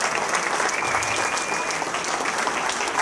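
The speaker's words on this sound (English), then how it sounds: "Let's give them a great round of applause" A hall of fame induction ceremony audience in a memorial hall gives the inductee class a round of applause: dense, steady clapping from a large crowd fills the whole stretch at a loud, even level.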